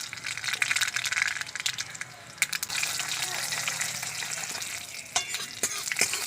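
Dried red chillies and black mustard seeds frying in hot oil for a Bengali tempering, a steady near crackling sizzle with sharp spattering pops, heard alone without voices.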